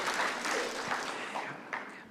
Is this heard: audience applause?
yes